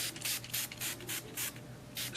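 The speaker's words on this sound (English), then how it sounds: "Spray some water on both slide tubes, like that." A small spray bottle of plain water mists the cream-coated slide tubes of a trombone in a run of short, crisp sprays with brief pauses between them, close and clear with no talking.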